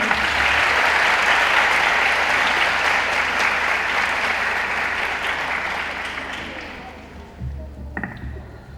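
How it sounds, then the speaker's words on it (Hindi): Warm applause from a mushaira audience in an Urdu department gathering welcoming a poet, a thick roar of clapping that holds steady, then thins and fades out, with a few scattered taps and clicks near the end. "आपकी तालियां इनको खुश आमदीद कहेंगी।"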